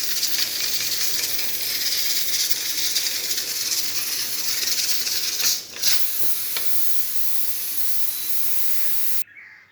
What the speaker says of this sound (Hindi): कवर करने के बाद मैंने इसको 15 मिनट के लिए प्रेशर कुकर को बंद किया।